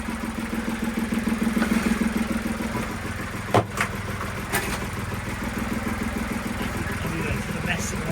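Water pump running after being repaired, a steady mechanical chugging and clatter throughout, with a couple of sharp knocks partway through and people talking over it.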